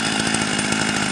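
A Jobu Tiger or Husqvarna 44 chainsaw runs loud and close, its engine droning steadily at high revs without a break.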